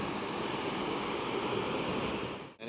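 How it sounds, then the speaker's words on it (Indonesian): Surf and wind roar steadily on a litter-strewn beach beside Taman Budaya in Padang, a loud unbroken wash of breaking waves with no voices, cutting off abruptly at the end. "Dan ini pantai di samping Taman Budayaan."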